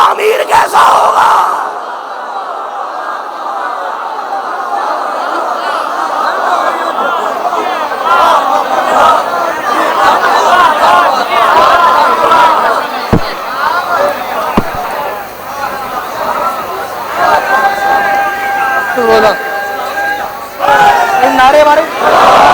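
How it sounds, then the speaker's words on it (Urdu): Large crowd at a Muharram majlis in a Lahore imambargah chanting religious slogans in unison, a loud sustained roar of voices with shouted call-and-response bursts and a rising, rhythmic chant toward the end. "نعرے مارے"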